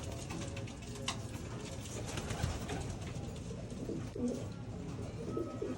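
Caged racing pigeons in a loft at Lubao, Pampanga coo steadily throughout, with soft overlapping calls and a busy low murmur of birds close by.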